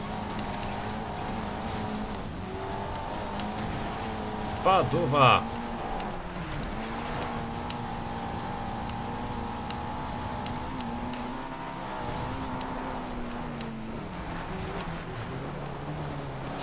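A Mitsubishi races in Forza Horizon 2 with a steady, droning engine note and brief tire squeals. Someone talks excitedly over the continuous engine sound.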